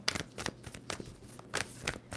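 Tarot cards being shuffled by hand in bursts of crisp riffling and flicking, close and fairly loud, with brief pauses between bursts.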